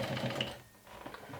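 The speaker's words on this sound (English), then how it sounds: "So I'm top stitching about 3/4 of an inch to 1 inch away from the edge" A sewing machine runs briefly while top stitching a backpack near the edge, giving a close, steady mechanical whir that dips for a moment midway before resuming, with no talk.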